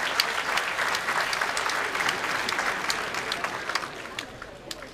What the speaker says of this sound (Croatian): Molim vas samo jedan aplauz za one koji će upravo ući ovdje u ovaj ring